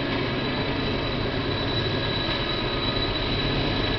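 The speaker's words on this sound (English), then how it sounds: "you can see the train now is actually on top of itself through the loop" A model train runs around a loop track that passes over itself near a tunnel, producing a steady, continuous whirring rumble with a faint high whine and no pauses.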